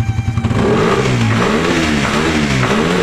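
A Suzuki Raider Fi motorcycle engine with its air cleaner removed revs hard and close, starting with a few quick throttle blips before settling into a loud, sustained, throaty roar.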